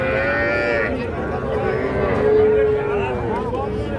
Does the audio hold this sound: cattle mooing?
yes